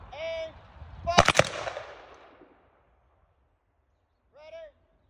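A rifle volley from a Memorial Day 21-gun salute rings out at Union Cemetery in Bellefonte, Pennsylvania. It is one loud, tightly grouped crack of shots with a long outdoor echo, and a shouted command comes before and after it.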